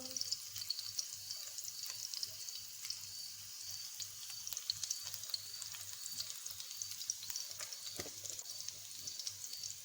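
Chicken Manchurian stir-frying in a pan on high flame, giving a steady, fairly quiet hissing sizzle with faint crackles and a few stirring clicks throughout.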